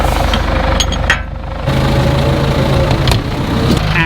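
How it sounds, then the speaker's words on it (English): A farm tractor's diesel engine chugs steadily nearby, dropping briefly before revving back up with a deeper, knocking rumble. "I'm going to use this tractor because it's a little bit more agile"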